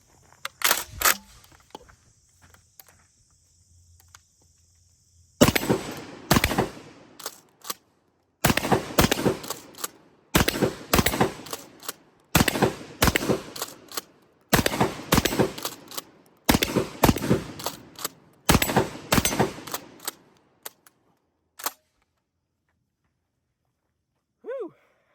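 A Standard Manufacturing DP-12 Gen II pump shotgun fires 2 3/4-inch double-aught buckshot in about seven sharp clusters of rapid, loud blasts at a steady rhythm, with quiet gaps between them and silence at the end.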